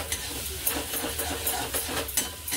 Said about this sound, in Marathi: 2 चमचे दही टाकते. आणि चांगलं हलवून घ्यायचं